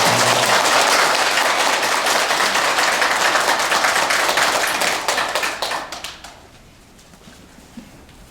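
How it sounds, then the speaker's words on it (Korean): Loud, dense applause from a Buddhist dharma hall audience welcoming a monk, steady for about five seconds before tapering off into quiet room tone. "불자 여러분께서는 모두 큰 박수로 스님을 환영합니다."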